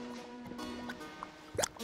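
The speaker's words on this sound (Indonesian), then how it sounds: "Itu keran untuk memanen getah dari pohon maple ini." Maple sap dripping from a tap in a maple tree, heard as a few faint, sparse drops with one clearer plink near the end, over quiet forest background.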